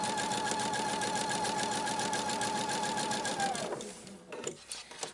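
A sewing machine stitches quilt triangle units for a square-in-a-square block, a steady rapid mechanical whir running loud and unbroken before it stops and gives way to a few soft handling clicks.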